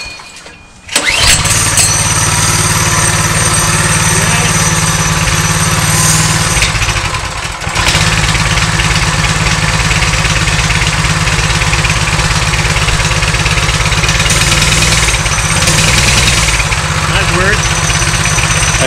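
A Coleman BT200x mini bike's small gas engine pulls and catches with its choke on, then runs nearby at a loud, steady, throbbing idle for the rest of the clip. A voice briefly sounds over the engine.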